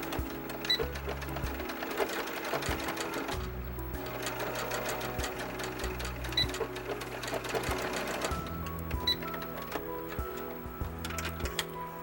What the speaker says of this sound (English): I'm going to sew the end shut with a 1/4 inch seam.